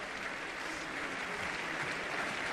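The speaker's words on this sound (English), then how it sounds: "the crowd thoroughly appreciative once again" Boxing crowd at a professional bout applauding steadily, a broad, even wash of clapping that holds at moderate distance throughout, with no talk over it.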